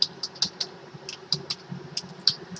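Someone types on a computer keyboard, entering code input, with a quick, uneven run of light, close-up key clicks over a faint low hum.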